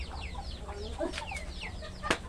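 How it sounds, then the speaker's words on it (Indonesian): Three backyard chickens cluck and chirp in a steady scatter of short calls over low outdoor rumble, with a single sharper call near the end. "ini ayam saya ini. Ada tiga ekor."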